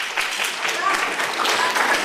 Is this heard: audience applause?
yes